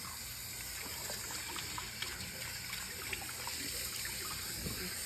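Steady running tap water splashes and trickles while a Persian cat is being washed, a continuous close hiss with small irregular drips and splashes throughout, no voices.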